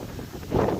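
Strong wind buffets the microphone on a prairie farm before barley swathing, with low rumbling gusts swelling louder toward the end of a short burst.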